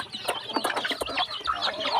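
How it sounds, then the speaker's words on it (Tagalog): Pet chickens clucking up close, a quick run of short, choppy clucks and squawks overlapping in an irregular rhythm, with no talking. "Sa atong alaga na manok."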